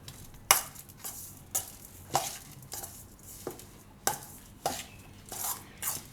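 Cheese, paneer and masala sandwich filling is mixed in a bowl, a series of about ten soft, rhythmic scraping strokes spaced roughly half a second apart, close and quiet.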